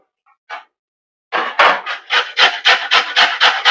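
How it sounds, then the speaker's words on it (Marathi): Vegetables are grated by hand for a chilla batter in a home kitchen. After a single stroke comes a quick, even run of rasping scrapes, loud and close, with no talk. "तर आता हे आपल्याला किसून घ्यायचे आहेत"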